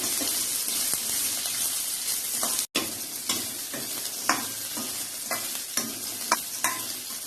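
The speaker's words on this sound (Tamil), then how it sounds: "வெங்காயத்தை நல்லா வதக்கணும்." Shallots sauté in a pan under a loud, continuous close sizzle, with repeated scraping stirs and a brief break partway through; no one speaks.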